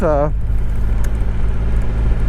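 A Triumph Rocket 3 GT motorcycle rides along with a loud, steady low engine drone and road rumble throughout, right after a short voice at the start.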